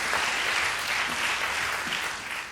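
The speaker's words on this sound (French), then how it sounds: "Pascal Dion, je vous demande de l'applaudir et de l'accueillir." Audience applause greets a speaker at a live talk event, a steady, moderately distant wash of clapping that fades slightly at the end.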